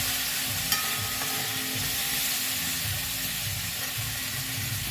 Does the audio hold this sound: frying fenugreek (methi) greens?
yes